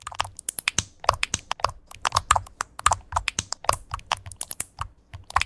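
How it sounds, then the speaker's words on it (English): A honey-style keyboard clacks under fast, steady typing, each keystroke a crisp, close, loud click in a busy irregular rhythm that continues throughout with no talking. "this is like the honey keyboard ASMR"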